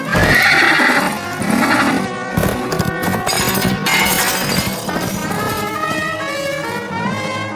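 A cartoon horse lets out a loud, shrill neigh that trails into a wavering whinny, followed by lighter clattering as it rides off.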